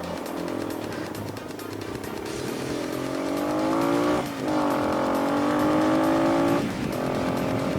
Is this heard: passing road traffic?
yes